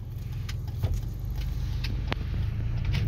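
A car on a G driving test route in St. Catharines pulls away from a stop, its engine a steady low rumble with a few faint light clicks and rattles over it.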